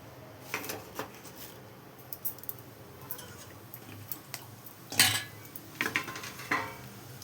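Spices clatter and sizzle as they are added to sesame oil in a pan for an anchovy fish curry, with scattered metallic utensil clinks and scraping against the pan over a low background hiss.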